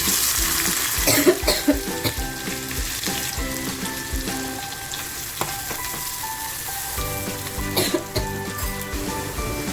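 Chopped onion sizzles in hot oil for a chana palak dish: a loud, continuous close-up frying hiss with intermittent clinks and scrapes of stirring in the pan.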